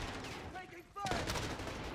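Gunfire in a Call of Duty Modern Warfare multiplayer match, with the MP5 and Kar98k in play: a burst of loud shots erupts about halfway through and keeps going after a quieter opening.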